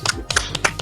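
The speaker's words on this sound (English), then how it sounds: "I'll give myself a round of applause for that, mate." A man on a rugby podcast claps for himself: a short run of crisp, close hand claps at an uneven rhythm, with a faint voice around them.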